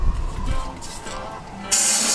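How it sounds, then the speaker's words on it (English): Carburetor and throttle body cleaner sprayed from an aerosol can, a sudden loud, steady hiss bursting in near the end after a quieter stretch of background noise. "I'm literally just spraying it and it's like getting pretty clean"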